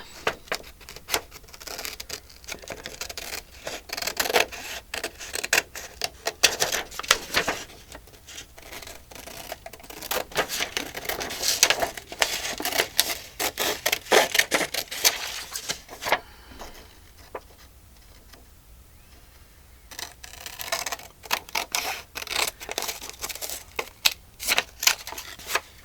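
Scissors cutting around a paper cabinet card blank for a mini junk journal, a string of crisp snips and rustling paper handling coming in uneven bursts, with a quieter stretch partway through.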